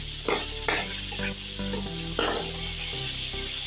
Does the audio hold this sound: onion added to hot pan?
yes